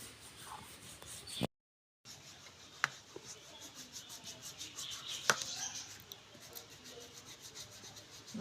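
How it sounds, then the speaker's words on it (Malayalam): A pumice stone scrubs the hardened skin of a foot heel during a home pedicure, giving soft, quiet, repeated rasping strokes with a few sharper scrapes and a brief pause. "ഈ സ്റ്റോൺ വെച്ചിട്ട് നമ്മുടെ കാലിൻ്റെ പൂറ്റിയൊക്കെ നന്നായിട്ട് വൃത്തിയാക്കി കൊടുക്കാം"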